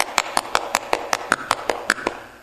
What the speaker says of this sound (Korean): 그냥 박수 칩시다.